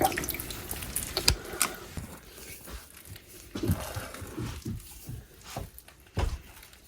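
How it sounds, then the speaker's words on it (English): Water trickles and drips into a thick buckwheat sourdough batter spiced with cumin, fennel, star anise, cloves and cinnamon, mixed for bread baked in a wood stove off grid; soft close pours and drops come in scattered bursts with no talk. "We will add a bit more water."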